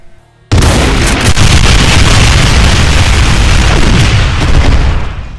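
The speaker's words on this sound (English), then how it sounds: "It can do a wide 360 spread of ground-based trails of explosions." A Mancubus in a Doom mod unleashes a wide ring of ground-level explosion trails, a sudden loud blast that swells into a sustained, roaring wall of booms lasting several seconds, alone without speech.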